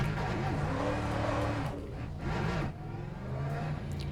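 Lexus V8 engine on a race track running steadily and fairly loud, its low rumble rising and falling with brief dips in throttle, no voices over it.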